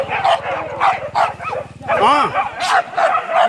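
A hunting dog barks and yips in a series of sharp, close bursts during a field hunt in Sijunjung, with people talking and calling out nearby.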